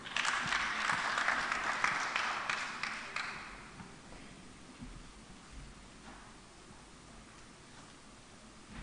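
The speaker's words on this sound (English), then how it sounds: "Big round of applause for him." At a Nairobi County climate event, an audience claps in a brief, dense burst for about three seconds that quickly fades into quiet room noise with faint scattered sounds.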